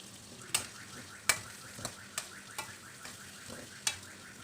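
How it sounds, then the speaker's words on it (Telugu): Onions fry with salt in a pan for a spicy onion idli fry, giving a soft, steady sizzle with regular, sharper stirring clicks of a spoon against the pan, faint and close. "ఈ రెండింటిని వేసి కాసేపు వేయించుకోవాలి"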